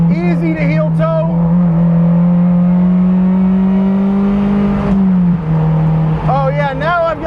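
A Mazda MX-5 Cup race car engine held near redline in fourth gear on track, a loud, steady high-pitched drone inside the cabin that dips briefly with a quick shift before climbing again.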